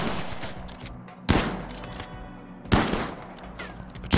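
A turret fires in the video game RimWorld: three sharp gunshot blasts spaced roughly a second and a half apart, each fading into a brief tail over a busy game background.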